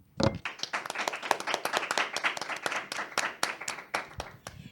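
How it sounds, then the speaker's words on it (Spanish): Studio audience clapping to welcome a Catholic talk show, a lively, close burst of many hands that stays strong and slowly thins toward the end. "quiero que lo recibamos con un fuerte aplauso"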